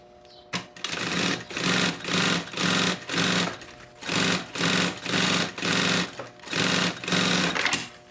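A sewing machine stitches a lining onto synthetic fabric along the edge of a backpack panel, running in repeated loud bursts of rapid mechanical chatter separated by short pauses.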